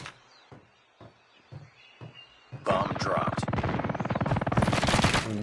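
Gunfire in Call of Duty Mobile: a few single spaced shots, then a loud sustained burst of rapid automatic fire, with someone talking.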